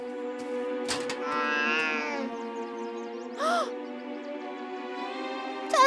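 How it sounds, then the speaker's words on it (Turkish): An animated cartoon cat meows in a Turkish-dubbed children's fairy and unicorn series, with several distinct mews rising over steady background music, the last one loud and close at the end. "Tatlı kedicik."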